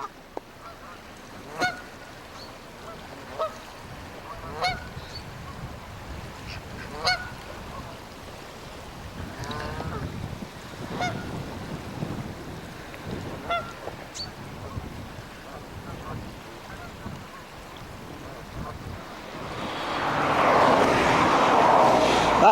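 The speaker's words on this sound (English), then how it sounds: "Canada geese, seagulls that have come inland." Canada geese honk repeatedly at a breezy reservoir, scattered calls at moderate distance over steady wind and outdoor rumble, with a rising gust of noise toward the end.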